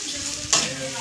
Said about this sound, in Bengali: মশলাটা ভালো করে কষে নাও।